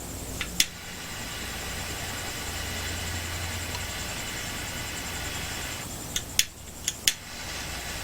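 Outdoor wind blows into the microphone while a cigar is being lit, making a steady broadband rush with a few soft knocks and bumps near the end.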